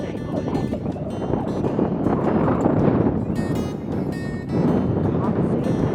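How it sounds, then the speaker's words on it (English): Strong, cold wind outdoors on a morning near the Devon coast roars and buffets the microphone. The gusty rumble stays loud and continuous throughout, swelling and easing slightly. "And it's very windy and cold."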